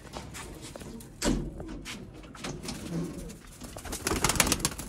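Sialkoti pigeons coo softly among fluttering and clatter, with a few sharp knocks over a steady room background; no one speaks.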